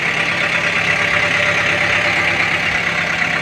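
A 2023 Kubota M6040 tractor diesel engine idling, with a steady, loud, even rumble close by and no talking.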